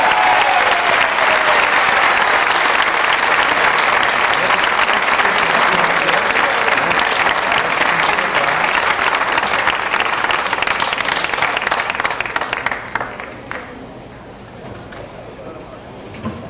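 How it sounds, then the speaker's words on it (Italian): An audience at a concert in Harrah's Casino, Atlantic City, welcoming a singer with loud, dense, sustained applause that fills the room for about thirteen seconds before thinning out, with a voice speaking over it. "accogliamolo con un grossissimo applauso"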